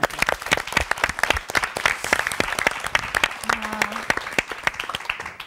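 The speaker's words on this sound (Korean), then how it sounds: "우리 박수 한번 해요" An audience at a Korean lecture event claps in dense, sustained applause that fills the room, with a brief voice showing through near the end.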